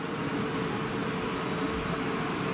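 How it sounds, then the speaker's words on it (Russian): A steady, loud rumble of a suburban electric train departing along the tracks, a continuous mechanical drone with a faint electric hum and no voices. "Электричка уехала."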